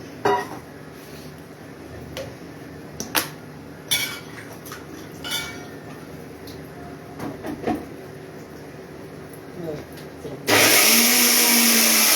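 Scattered kitchen clinks and clatter, then a mixer grinder grinding coconut roars to life near the end, loud and whirring.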